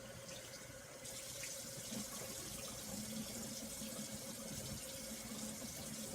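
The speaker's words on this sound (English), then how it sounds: "I'm going to start out by wetting my head a little bit." Tap water runs steadily into a sink as a head is wetted before shaving, a continuous close splashing hiss that grows slightly fuller after the first second.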